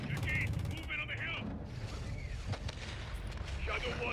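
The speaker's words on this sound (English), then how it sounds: "we're taking RPG fire from the east" Explosive RPG fire and combat noise in the Call of Duty MW2 campaign, with scattered blasts, mechanical clatter and radio-like chatter layered through a busy battle mix.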